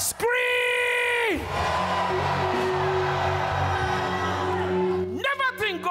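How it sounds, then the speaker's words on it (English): A church congregation screams and cheers during a revival-style sermon, opening with a sustained loud voice and rising into a dense roaring crowd that holds for several seconds before a voice breaks in again. "Scream!"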